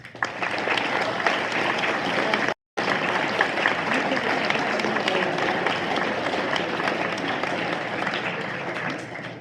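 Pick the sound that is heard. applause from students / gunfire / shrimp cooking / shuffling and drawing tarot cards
applause from students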